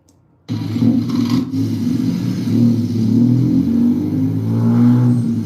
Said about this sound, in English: it definitely sounds like it needs a new muffler or it's struggling for sure